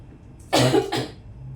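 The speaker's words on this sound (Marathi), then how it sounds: "खोकला येऊ राहिलाय बघा." Two quick, rough coughs in close succession, near and fairly loud, against a quiet background.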